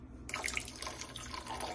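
Water pours into a mixture of ground beef and flour for a tortilla filling, a short close splashing stream that starts abruptly and runs steadily.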